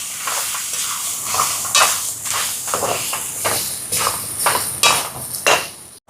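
Mashed boiled potato being stirred with salt in a pan, a run of repeated scraping, thudding strokes at an uneven rhythm, close and fairly loud, with no voices.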